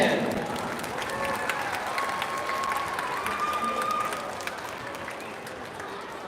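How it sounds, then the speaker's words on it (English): One more big round of applause rises for a high school band at a school arts showcase, full steady clapping from the audience with some crowd noise and chatter, gradually thinning toward the end. "Let's get one more big round of applause for our high school band."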